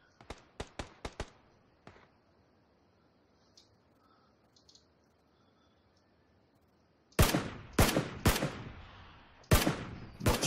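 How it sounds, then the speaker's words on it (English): Gunfire in the video game Battlegrounds: a quick burst of several shots at the start, one more shot, a quiet stretch, then a louder cluster of close shots near the end. "Someone else is shooting him."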